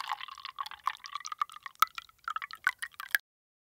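Water pours into a miniature cooking pot for a small beef stew, a close run of bright splashes and drips that stops suddenly.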